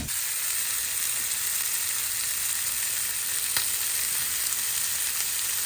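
Prawns sizzle in a pan on the hob, a steady, bright hiss of hot oil that runs evenly throughout, with one brief sharp clink partway through.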